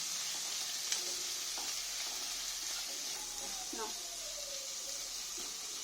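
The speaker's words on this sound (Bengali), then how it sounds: "একটু ভাজা ভাজা হয়ে গেছে মশলা দিয়ে" Spices frying in a pan for egg Maggi noodles give a soft, steady sizzle with occasional stirring clinks, while a voice speaks quietly over it.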